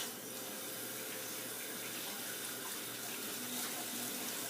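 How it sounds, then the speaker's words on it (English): A tap runs steadily into a sink while hands are washed in a kitchen, a continuous close hiss of flowing water with no pauses. "I'm going to wash my hands real quick."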